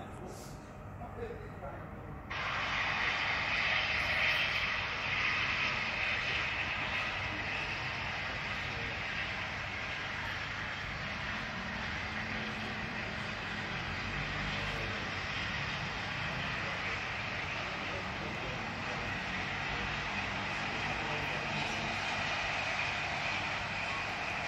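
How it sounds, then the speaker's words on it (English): A steady, loud rushing roar of a B1 steam locomotive passing non-stop close by platform 4 at Ipswich station, sustained and broad, starting abruptly after a quiet moment and holding for over twenty seconds. "The train now approaching platform 4 does not stop here."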